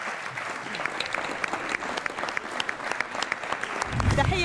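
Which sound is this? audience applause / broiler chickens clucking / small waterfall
audience applause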